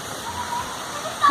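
A waterfall near São Lourenço, São Paulo, a steady rushing wash of falling water that holds at an even level, with a short louder burst at the very end.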